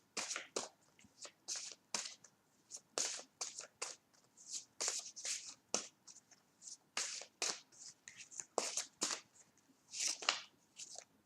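Tarot cards are shuffled close up in repeated quick riffling bursts, each a crisp papery rustle separated by brief pauses, steady rhythm throughout.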